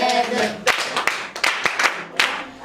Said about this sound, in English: Everybody clap for her.